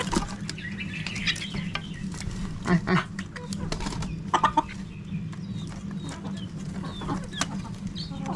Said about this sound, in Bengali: এদিকে হচ্ছে বাচ্চা মুরগি, দেখেন দেওয়ার সাথে সাথে খাওয়া শুরু করে দিছে